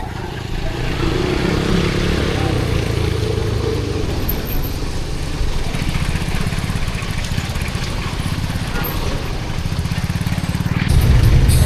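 A motorcycle rides through congested city traffic in Iligan City, its engine a close, steady buzzing rumble that rises slightly near the end, with traffic noise around it.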